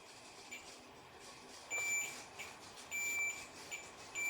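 Continuity buzzer on a digital multimeter during electrical panel testing: a few steady high-pitched beeps, two of them longer, over a low background hum, with no talk.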